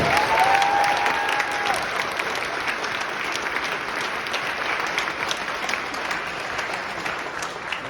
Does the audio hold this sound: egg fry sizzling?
no